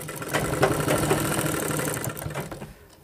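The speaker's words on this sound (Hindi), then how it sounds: "ऐसे ऊपर से नीचे तक आपको सिलाई मारते चले आना है बराबर करके।" Sewing machine stitching a fabric pocket from top to bottom, a quiet rapid mechanical whirring with faint rhythmic clatter that runs steadily for a few seconds, then trails off.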